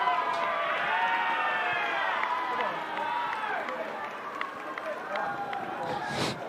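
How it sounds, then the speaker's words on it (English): Crowd in the stands at a championship baseball game between Idaho and Hawaii, cheering and shouting with children's voices in a sustained, lively roar, with a voice talking over it. "The crowd was going crazy over the bat boy and bat girl running for the ball and who got the ball first"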